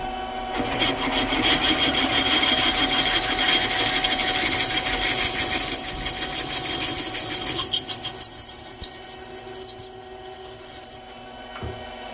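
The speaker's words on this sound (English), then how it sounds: "I'm going to drill it." A power drill grinds steadily into metal on a Vortec crack repair for about eight seconds, a continuous rasping whine, then stops, leaving a few scattered clinks and scrapes.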